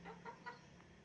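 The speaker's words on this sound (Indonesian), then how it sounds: "saya banyak punya ayam tuh sobat bisa dengar suaranya" A few short hen clucks come in quick succession, fairly faint over a quiet background.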